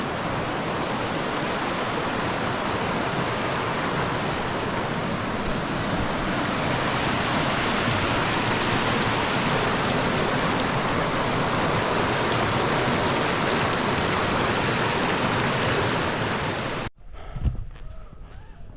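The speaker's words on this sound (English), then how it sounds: "There's a 360 view of the little creek." A small creek on a Cascade Mountain hike rushes steadily as a dense, broadband wash of flowing water, loud and close for most of the stretch before cutting off abruptly near the end, leaving a quiet thump and faint handling noise.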